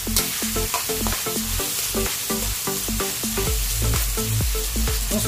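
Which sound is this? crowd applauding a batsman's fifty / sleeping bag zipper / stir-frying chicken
stir-frying chicken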